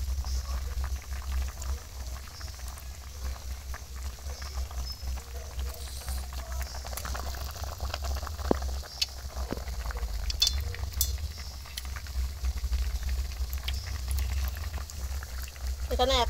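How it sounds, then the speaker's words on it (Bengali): A sour lemon and pumpkin curry bubbling at a boil in a pot on a village kitchen stove, a low steady simmering rumble with occasional clinks of utensils, faint and continuous. "টকটা বেশ ভালো করেই ফুটছে।"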